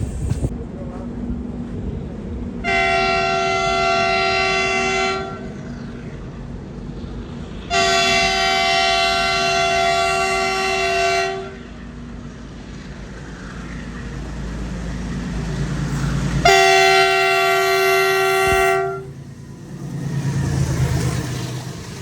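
The Dadar Jodhpur Express stands on a loop line, its horn blaring in three long, loud blasts over a steady rumble of the train.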